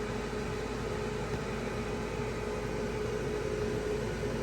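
A newly installed woodstove vent fan motor at cold start, a steady whirring hum with a faint tonal whine and broadband airflow hiss, constant and unchanging throughout, no voices.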